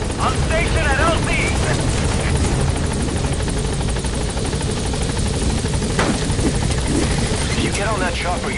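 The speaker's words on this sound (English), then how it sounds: "If you get on that chopper, you'll be aborting the mission." Helicopter hovering at a landing zone in Metal Gear Solid V, a loud continuous rotor thrum with steady chopping throughout, while radio voices and other game sounds come in over it.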